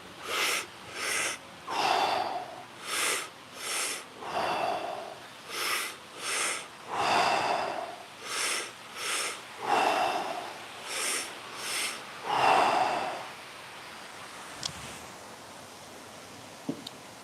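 Repeated two-stage breathing, a belly inhale then a chest inhale and a long release, with steady rhythmic airy breaths cycling about every second or two, close and alone, fading to quiet near the end.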